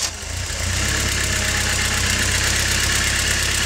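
A 1987 Toyota MR2 AW11 with a 16-valve engine runs steadily at idle, an even, close mid-pitched mechanical drone with a fast regular pulse after a brief start at the beginning.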